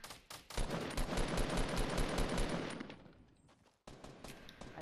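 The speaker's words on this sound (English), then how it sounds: "Oh no, you're using a fucking pistol." Rapid gunfire rattles in a dense, continuous burst for about three seconds in Fortnite, fading out before a couple of further sharp shots, with no voices over it.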